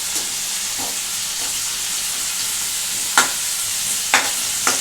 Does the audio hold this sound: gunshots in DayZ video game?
no